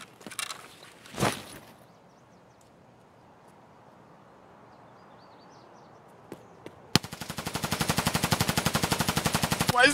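Automatic gunfire in the shooter Escape From Tarkov, an early loud burst, then quiet until a sustained rapid stream of shots runs to the end at close range.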